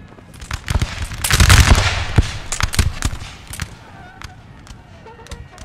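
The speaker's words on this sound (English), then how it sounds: "Go on, France, give him a volley." Musket volleys crack out in a Napoleonic-era battle in Napoleon Total War, the Battle of Saalfeld of 1806, a dense ragged burst of overlapping shots that thins into scattered single pops.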